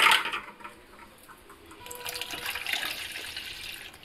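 Water is poured into a bowl for pani puri rasam, a brief splash at first, then a quieter pause, then a steady running, trickling pour that builds and holds, close by.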